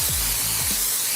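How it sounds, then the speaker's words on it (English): A continuous, loud hiss of cooking spray being sprayed onto a pan, one steady burst lasting about a second with a low rumble underneath. "Spray your pan so it don't stick."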